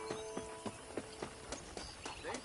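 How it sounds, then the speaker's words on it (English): Horse hooves clip-clopping at a steady walking pace on a ranch in Red Dead, the evenly spaced hoofbeats close and moderately loud over quiet ambience. "I picked out a fine horse for you"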